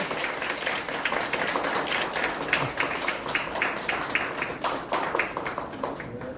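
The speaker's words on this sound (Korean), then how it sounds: "박수 한번 부탁드리겠습니다" Audience applause at a signing ceremony for a Gumi City investment memorandum of understanding, a steady mid-level wash of clapping lasting throughout with no talk over it.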